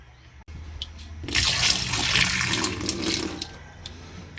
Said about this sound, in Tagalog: Tumatagas pa din kahit nakasara.